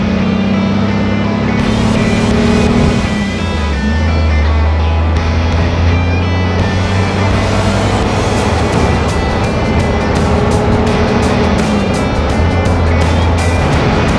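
A loud Jeep engine rumbles steadily with deep, throaty aftermarket exhaust tones, rising and falling slightly as it revs around 1,500 RPM, close by and continuous throughout.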